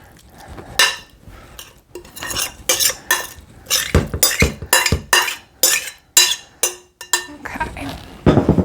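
A spoon scrapes and presses raw meatloaf mixture into a pan, producing a string of close, sharp metallic clinks and scraping strokes in an uneven rhythm, some voice faintly underneath.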